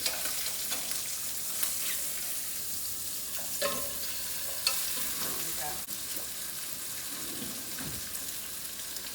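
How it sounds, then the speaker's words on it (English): Pork chops sear in a hot pan, a steady soft sizzle of frying meat running throughout, with occasional light scrapes and taps of a utensil against the pan, fairly quiet and without talk. "I'm going to go ahead and flip these pork chops. Oh, they're beautifully seared."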